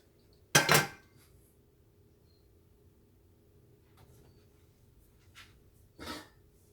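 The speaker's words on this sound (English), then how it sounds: "go ahead and get our pans, little 9-inch pans." Metal 9-inch cake pans clatter with one loud bright knock near the start, a few faint taps later, then a second clear clank toward the end, all close and with a quiet room between.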